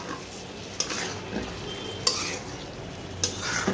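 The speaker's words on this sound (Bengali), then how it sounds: "একটু এটা থেকে ভাজা ভাজা করে নেব" Stuffed pointed gourd fries in a pan with a low steady sizzle, punctuated by three sharp clinks of a spoon knocking the pan as it is stirred.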